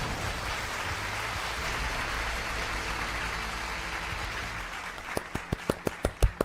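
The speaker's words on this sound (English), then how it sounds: "Clapping for the winner for Dr. Zoldberg." A small group claps for a winner, rapid scattered applause rising out of a steady hiss and ending in a few loud close hand claps.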